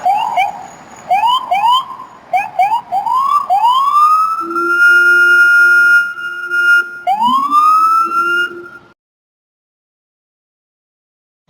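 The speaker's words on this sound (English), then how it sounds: "Police car." A police car siren from a children's vehicle-sounds collection wails in loud, rising and falling sweeps, first in quick short bursts and then in longer drawn-out tones, heard alone before cutting off into silence.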